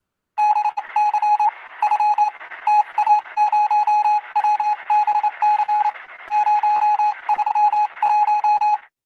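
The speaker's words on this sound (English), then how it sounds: "this is Morse code" Morse code beeping, a clear single-pitched tone keyed in rapid short and long bursts with brief gaps, loud and close with nothing else beneath it.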